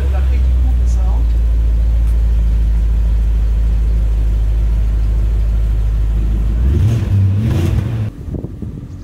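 A 2003 BMW Z8 Alpina roadster idles with a loud, deep, steady rumble close by, then briefly shifts in pitch before cutting off near the end.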